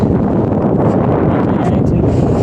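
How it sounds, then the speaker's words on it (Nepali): Strong wind buffets the microphone during a bicycle ride in the UAE, a dense, constant roar close up with no break. "हावा यस्तो लागेको छ, एकदम हावा लागिरह"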